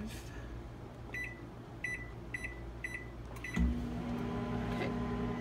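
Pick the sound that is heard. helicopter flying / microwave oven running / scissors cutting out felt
microwave oven running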